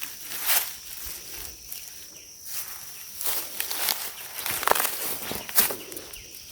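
Footsteps walking overhead inside a cave: scattered soft crunching steps and rustles, faint and somewhat distant, with irregular timing against a quiet hissing background.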